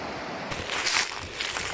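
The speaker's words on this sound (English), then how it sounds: "just wanted to share with you another version of the magical Logan River" The Logan River heard from high above on dry grassy ground: a steady, broad rush of flowing water that swells after a moment, with light rustling and no voices.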